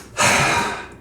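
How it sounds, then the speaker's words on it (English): One long, deep, exaggerated breath, drawn in sharply and audibly close to the listener, lasting most of a second before fading. "you stand next to your bed and you do 10 exaggerated breaths"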